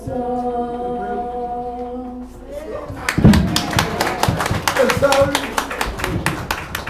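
Applause breaks out at a funeral service in La Gonâve, Haiti, a burst of many hands clapping after a sung or spoken passage, loud and sustained with scattered voices mixed in.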